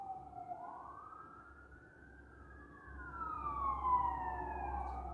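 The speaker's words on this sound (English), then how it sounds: "the sounds of the sirens that are going past my unit at the moment" Wailing emergency sirens sweep up and down in pitch, growing louder as they pass, with low traffic rumble underneath; no one speaks.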